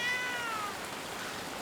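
A single cat meow in the video game Blacktail, a short descending cry near the start that fades into a steady background wash of ambient noise, with no talking.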